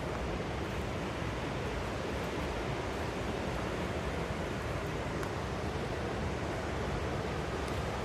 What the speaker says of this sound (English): A lot of water moving.